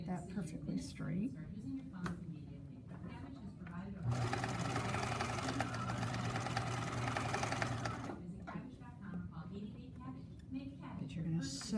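A sewing machine stitching fabric, running in a steady whirring buzz for about four seconds between stretches of close talk, with fainter mechanical clicks around it.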